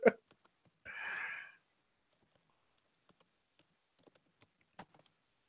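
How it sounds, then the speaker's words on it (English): Keyboard typing during a casual online video chat, heard as a sparse scatter of faint, quiet clicks and taps, with one brief louder burst of noise near the start. "I was typing back to Jeff."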